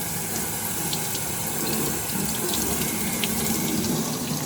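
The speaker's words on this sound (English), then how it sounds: "But when I fill this sponge with water" Tap water runs steadily into a sponge, a continuous hissing splash that holds at an even, fairly loud level throughout with no talking.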